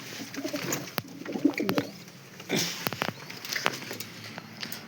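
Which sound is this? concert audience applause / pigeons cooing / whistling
pigeons cooing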